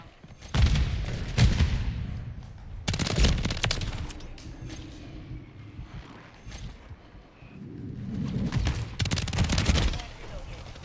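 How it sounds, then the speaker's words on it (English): Precision airstrike in Call of Duty Modern Warfare III: heavy bursts of gunfire and booming impacts arrive in several loud waves, with rumbling aftermath between the barrages. "Friendly precision airstrike inbound."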